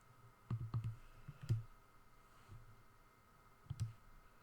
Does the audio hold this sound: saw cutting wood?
no